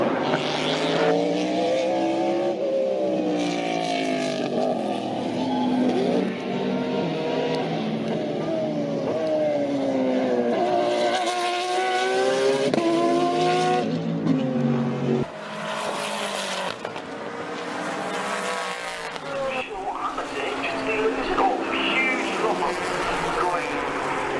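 Race cars roar past at Sebring, engines rising and falling as they shift and pass, with tire noise and a voice talking over the track sound.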